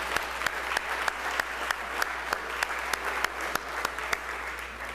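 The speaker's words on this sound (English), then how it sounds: "So let's all give them a round of applause." Sustained applause fills the Mississippi House chamber, moderately loud and steady, punctuated by regular sharp knocks at roughly quarter-second intervals, with a low hum underneath.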